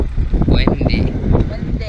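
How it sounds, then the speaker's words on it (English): Strong outdoor wind buffeting the microphone with low rumbling gusts, loud and continuous, under voices talking close by. "really windy"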